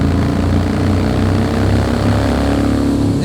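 A Harley-Davidson motorcycle's very loud exhaust while riding, a deep, steady throbbing engine drone with a dense low rumble that runs continuously and close throughout, with no voices.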